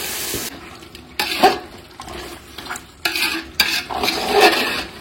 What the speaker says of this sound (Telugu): మటన్ వేస్తా ఉన్నాను.